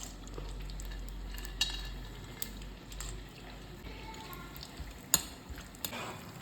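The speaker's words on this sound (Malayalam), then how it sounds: "നമുക്ക് നമ്മുടെ നട്ടും കിസ്മിസും ഒന്ന് വറുത്തെടുക്കാം" Low, steady sizzling of cashews and raisins roasting in ghee, with occasional spoon scrapes and clinks against the pan.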